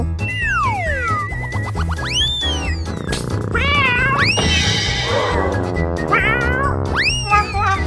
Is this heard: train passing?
no